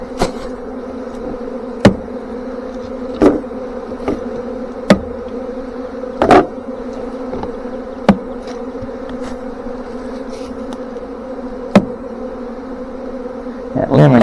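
A huge honey bee swarm hangs on a trap and hums steadily and loudly throughout, a continuous dense buzz punctuated by several sharp knocks or taps, with no talking.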